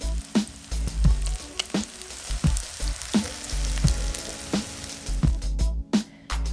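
Salmon croquettes fry in a pan with a steady close sizzle, broken by regular sharp crackles and pops of hot oil every second or so, with no talking.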